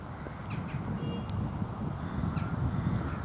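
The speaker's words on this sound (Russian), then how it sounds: "Ворон, ворон." Ravens cawing outdoors on a mild, rainy December day, a few harsh calls over a constant low rumble of background noise.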